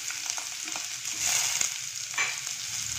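Chopped onions and garlic sautéing in a pan for veg kofta biryani, a bright hiss of frying with a few faint stirring scrapes, close and steady, no voices.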